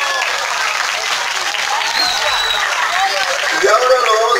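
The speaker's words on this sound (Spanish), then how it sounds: "Palmas para ustedes." An audience at a poetry festival applauds, a continuous, close wash of clapping with voices and light laughter mixed in underneath.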